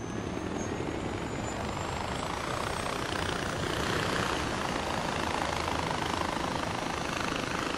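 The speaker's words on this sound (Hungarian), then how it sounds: "Megyünk helikopterezni." A helicopter in the video game Far Cry 4 drones with a loud, continuous rotor and engine roar, steady and close throughout with no talk.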